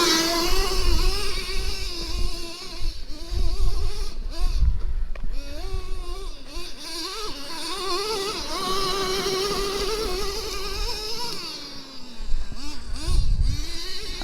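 A Traxxas T-Maxx 3.3 nitro RC monster truck crawling over rocks, its small nitro engine buzzing and whining with constantly shifting revs, rising and falling pitch throughout, with a couple of brief dips.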